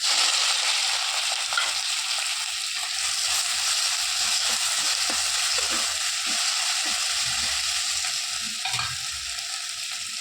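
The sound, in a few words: okra and green chillies frying in hot coconut oil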